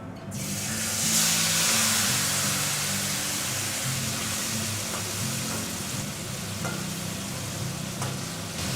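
Marinated Bombay duck fish hits hot mustard oil in a wok, giving a steady, loud broadband sizzle and crackle that holds through the whole stretch with no talk over it.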